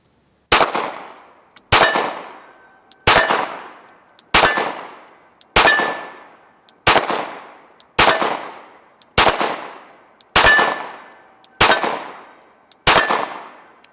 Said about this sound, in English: I wanna see if I can fire through this magazine without any problems, because I didn't like the way that 9mm felt.